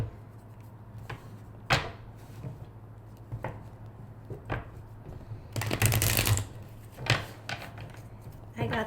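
A deck of tarot cards handled and shuffled, several crisp flicking riffles and taps building to a dense burst of rapid card flutter near the end, close up.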